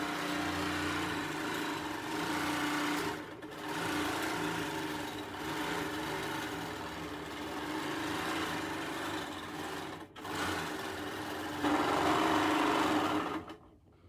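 A Moxie long-arm quilting machine stitching steadily with a continuous motorised whir and rapid needle hum, close up and uninterrupted, slightly louder near the end.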